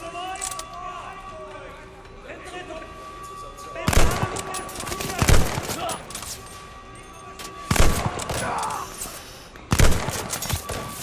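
Sniper rifle shots in Call of Duty Vanguard, four sharp loud cracks spaced a few seconds apart over steady game ambience, with players talking between them.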